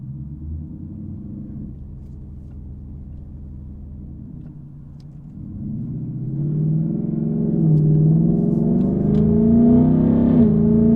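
A Ford Mustang GT with a 10-speed automatic accelerating from low speed: a steady engine rumble rises into a louder, building roar as it pulls through the gears, heard from inside the cabin.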